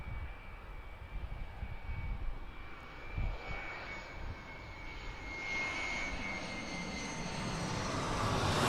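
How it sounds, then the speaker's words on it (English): A Cessna Citation 560 business jet passes overhead at Birmingham Airport, a steady broadband engine roar that slowly swells louder as it approaches, heard outdoors with no talking. "Here's that citation, 560, just about to go over the top of us."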